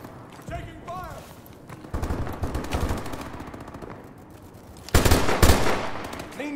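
Bursts of automatic gunfire in the video game Call of Duty: Advanced Warfare, rattling in ragged volleys with a louder burst near the end, mixed with brief radio-style voice chatter.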